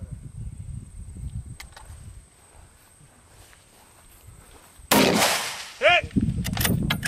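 Gunfire at a long-distance shooting range: a sharp, loud crack bursts out after a quiet stretch, followed by further bangs and rumbling echoes, with faint rustling and low voices beforehand.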